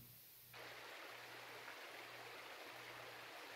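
A river's rushing water in a video game swells in suddenly and continues as a steady, broad hiss, with a faint low hum underneath.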